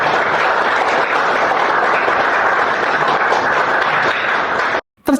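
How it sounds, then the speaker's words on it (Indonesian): A classroom erupts in loud, steady applause for a quiz winner, many hands clapping densely together for several seconds before cutting off abruptly. "kita beri aplaus yang meriah kepada Indri Cahyani Putri"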